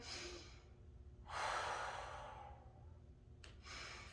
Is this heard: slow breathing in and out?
yes